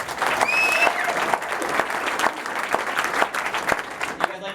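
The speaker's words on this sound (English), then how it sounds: "you guys give our CEO a big round of applause" An audience at a company headquarters event claps loudly and steadily for the CEO, a dense round of applause filling the room with no talking over it.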